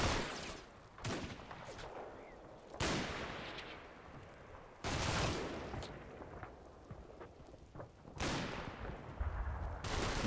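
Scattered gunfire from a WWII battle in Combat Mission: Battle for Normandy, including MP40 submachine gun fire: several loud sharp bursts and single cracks spaced a few seconds apart, echoing over a quieter rumbling background, with no talking.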